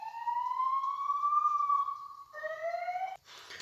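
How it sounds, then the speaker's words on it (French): Police sirens wail from a distance, one long rising and falling tone followed by a shorter second sweep, fairly clear and alone before a brief burst of noise at the end. "J'espère que ça s'entend pas, mais il y a des sirènes de police."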